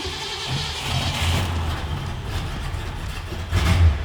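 A classic 1966 Ford Mustang Sports Coupe with a manual clutch turns over and settles into a low, rumbling idle close by, the engine swelling louder near the end.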